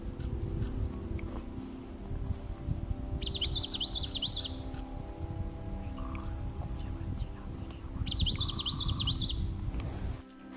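A rain babbler calls in the forest of Neora Valley National Park, its short trilled, wavering phrases repeating a few times at moderate distance over a steady low rumble of wind or stream noise.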